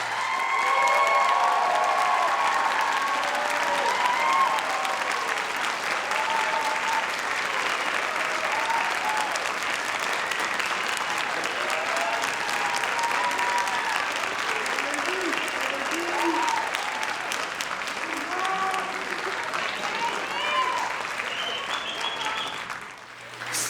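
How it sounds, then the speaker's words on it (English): An audience at a community college nursing candle lighting ceremony applauds the graduating class, sustained loud clapping with scattered voices and cheers mixed in, tapering off at the end. "Ladies and gentlemen, please give our graduates a round of applause."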